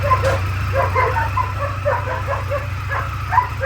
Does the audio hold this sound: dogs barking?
yes